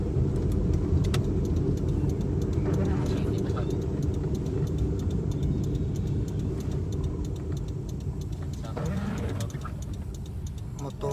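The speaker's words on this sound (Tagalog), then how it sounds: "Tricycle. Tricycle lang dyan naga." Motorcycles and tricycles pass along an Iloilo City street in the morning, a steady rumble of small engines with passing whooshes and scattered clicks, while someone talks over the traffic.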